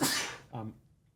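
A single sharp sneeze up close, a hissing burst followed by a short voiced second part, in a quiet room.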